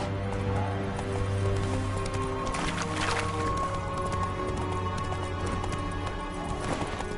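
A horse in The Witcher 3: Wild Hunt gallops in a steady, rapid clip-clop of hooves, close and continuous, over a soft background music bed with a brief burst of louder hoofbeats near the middle.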